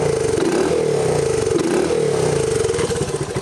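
A Honda TRX 125 ATV engine runs close and loud, a steady mid-pitched chugging idle that swells with light revs before easing off at the end.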